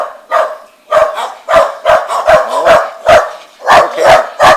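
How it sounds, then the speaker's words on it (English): Several dogs bark in a village street in Mabalacat, Pampanga, Philippines, with about a dozen loud, close barks and yips in quick irregular bursts and nothing else heard. "There's a lot of dogs here."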